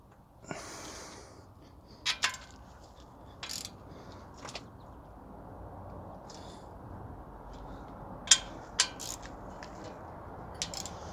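A torque wrench tightening an oil pan bolt on a Mustang F150 V6 engine swap gives a few sharp, sparse metallic clicks spread over quiet handling noise and soft breathing, close by.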